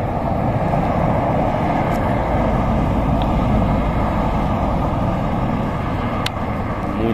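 Steady, loud roar of road traffic from a nearby highway near Pedra da Boca, Teófilo Otoni, Minas Gerais, a continuous wash of engine and tire noise with no pauses.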